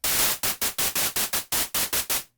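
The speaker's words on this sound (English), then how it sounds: "Maybe we want to do something like a white noise, right?" A white noise synth layer in UVI Falcon plays as loud bursts of static hiss, about ten short pulses in a steady rhythm, each cutting off sharply before the next.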